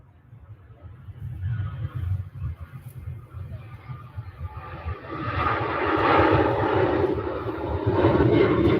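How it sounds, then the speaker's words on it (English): A KLM airliner departing Manchester Airport, its engine roar building from a low rumble into a loud, broad, sustained rush as it climbs away, with no talk over it. "Next departure is that lovely KLM livery"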